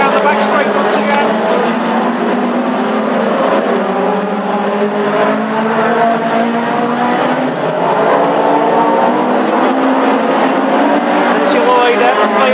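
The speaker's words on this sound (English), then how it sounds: "Quite a bit of good racing there as we go down the back straight once again." Classic hot rod race cars lapping an oval track at Northampton, a loud dense roar of several engines down the back straight, with occasional tire noise and a commentator talking over it the whole time.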